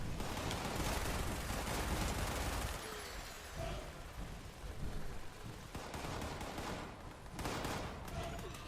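Sustained gunfire in the video game Fallout 76, loud and dense bursts for the first few seconds, then scattered shots continuing under radio-style team chatter during a tactical push on a tower and silos.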